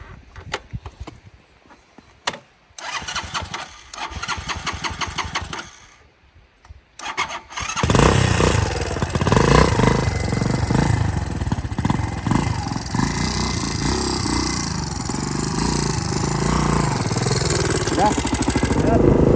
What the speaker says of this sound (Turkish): Çevir abi sen motoru.